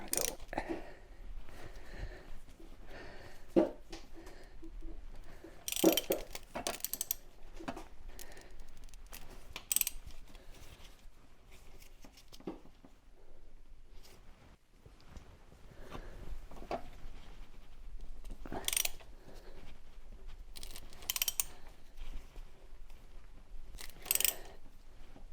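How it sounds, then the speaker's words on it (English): Ratcheting wrench clicks in short bursts while loosening the thermostat housing bolts on a C3 Corvette's 5.7-litre engine, close and moderately quiet with gaps between strokes. "Let's go back to the wrench now that they're loosened, or should be loosened anyway."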